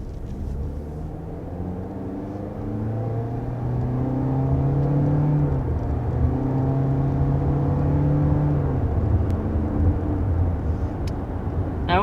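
A 2022 Toyota Corolla Cross engine with a continuously variable transmission accelerates. A steady whirring drone climbs gradually in pitch and loudness from inside the cabin, heard alone for about twelve seconds.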